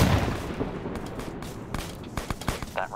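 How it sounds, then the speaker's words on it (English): Gunfire in the Arma military game during a squad mission, with a loud boom at the start followed by scattered distant cracks and thuds that come in uneven sequence and fade into the background. "That round was fired."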